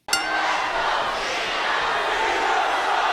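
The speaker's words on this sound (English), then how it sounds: "The crowd are chanting for somebody who's not even a participant in the WWE title match." A large arena crowd at the WWE Survivor Series 2010 wrestling event roars and chants as a dense, loud, continuous wash of many voices that starts abruptly and holds steady throughout.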